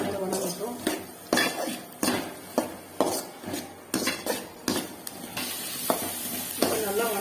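Green chillies fry in a pan for a mutton blood stir-fry, stirred with a metal spoon. Repeated sharp scrapes and clanks sound over a low sizzle.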